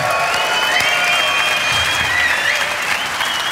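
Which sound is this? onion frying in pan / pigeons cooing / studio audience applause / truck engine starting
studio audience applause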